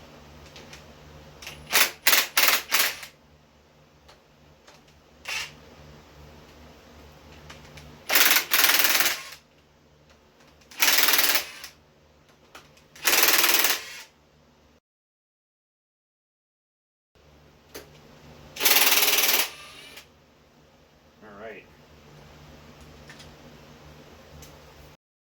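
Head bolts being loosened on a 1977 Dodge Aspen wagon's Mopar small block LA 360 engine, with several separate bursts of rapid impact-wrench rattle, some short and some longer, between quiet pauses.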